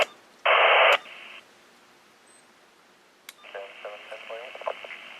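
A loud burst of harsh static, a pause, then a noisy, band-limited radio voice crackling in a recording played back on a Uniden BCD436HP scanner at moderate volume.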